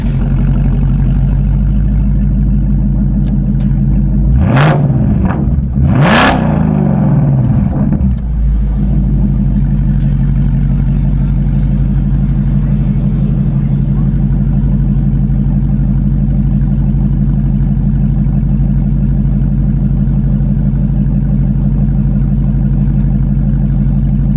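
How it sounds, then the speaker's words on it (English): A loud idling 2024 Shelby Super Snake engine with its resonators removed revs sharply twice in quick succession, each rev rising and falling, then settles back into a steady, rumbling idle. "let's give it a couple revs"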